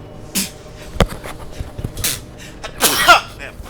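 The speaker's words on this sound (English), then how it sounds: "Darn sneezing fit hitting me again." A sudden close sneeze in the game World of Warcraft: The War Within bursts out once, sharp and loud, with a few small shuffling sounds and breaths around it.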